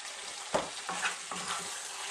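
Mushrooms and zucchini sizzle in a pan over medium heat for a curry, a steady close frying hiss broken by a few soft stirring scrapes.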